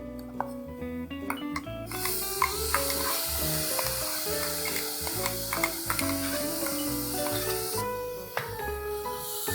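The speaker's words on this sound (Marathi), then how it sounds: "आता आपण जे खोबऱ्याचं वाटण केलेलं आहे ना ते आपण फ्राय करून घेऊ" Ground coconut paste fries in a pan over already fried onion, sizzling steadily with a bright hiss, punctuated by frequent clinks and scrapes of stirring, close by.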